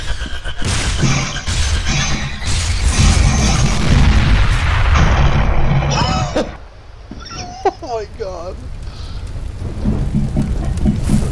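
A barrel explodes in a gravity gun game: a long, loud crashing roar of blast and debris, then a quieter stretch where people talk before the rumble builds again.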